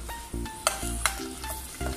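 Onions fry in hot oil in a cooking pot, a steady close sizzle broken by repeated scraping stirs and a couple of sharp metallic clinks.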